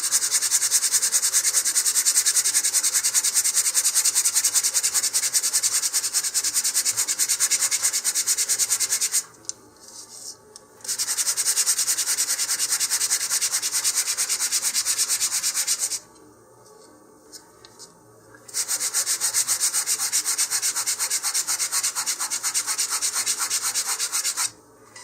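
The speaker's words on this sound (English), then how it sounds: "I'm going to use 150 grit sandpaper here, and we're going to create a lot of dust" Fins for a LOC Precision LOC1 Xeno model rocket are sanded with 150 grit sandpaper in long, steady, close-up rasping strokes, stopping twice for short pauses before the rubbing resumes.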